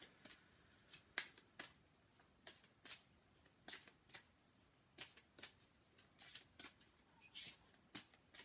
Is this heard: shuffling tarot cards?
yes